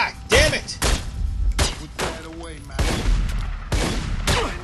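Gunfire in The Godfather II video game shooting at an enemy, five or six loud separate bursts of shots spread across the stretch, with ricochet-like whines between them and someone talking now and then.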